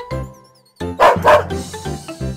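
An old dog in a children's story of the Bremen Town musicians gives two loud, close barks between stretches of light music, followed by a softer whimpering tail.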